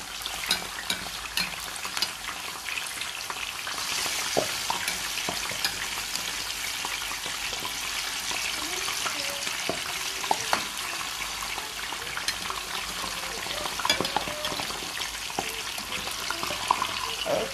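Fish frying in a pan gives a continuous, fairly even crackling sizzle with scattered sharper pops throughout, close by and with no one talking.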